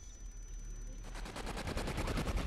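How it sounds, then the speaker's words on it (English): Zeus cannon firing a small rocket in a zombie shooter game: a loud burst of rapid, evenly spaced gunfire-like blasts that starts about a second in and continues steadily, close and without talk. "Nice, we get to shoot the little rocket."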